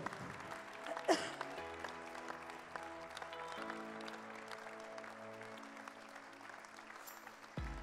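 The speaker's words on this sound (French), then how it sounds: "On peut les applaudir." An audience applauds project winners at a participatory budget awards evening in the Landes, France; a quiet, thin patter of clapping continues alongside sustained musical tones and a sharp knock near the start.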